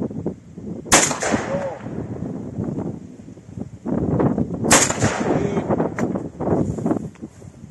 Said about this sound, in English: The gun has to be steady in your hand. Fire, fire.